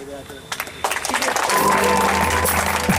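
Audience applause welcoming guests at a college freshers party, a dense crowd clapping that swells and grows steadily louder, with a voice speaking over the top.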